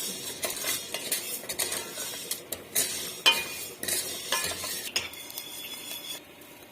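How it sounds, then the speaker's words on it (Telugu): Sago pearls dry-roast in a pan for halwa while a spoon stirs and scrapes them in quick, uneven strokes, with close metallic clinks and rustling. "సగ్గు బియ్యం హల్వాకి ఇలాగ వేయించుకోవాలన్నమాట"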